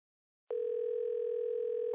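Telephone signalling an incoming call in a cartoon, a clean steady electronic tone that starts abruptly after a moment of silence and holds evenly to the end.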